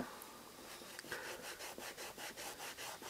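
A cloth soaked in rubbing alcohol is rubbed along the midsole of an Air Jordan CDP Retro 2 sneaker to lift off paint, making quiet, rhythmic scrubbing strokes that repeat steadily, close by, with no voices.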